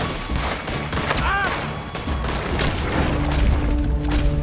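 Gunfire rings out in the video game Red Dead Redemption during the Saint Denis bank robbery shootout, with a rapid volley of loud cracks and booms layered over a dense, rumbling action soundtrack.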